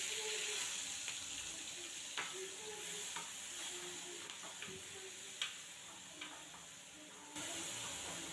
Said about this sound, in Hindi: ऑयल हमारा गर्म हो चुका है तो हमने हींग डाल दिया है।